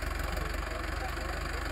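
A Mahindra 555 Arjun Ultra 1 tractor, a 2020 model in the 50 HP class, idles on a farm field with a steady, even diesel rumble and rhythmic low pulsing, close and continuous.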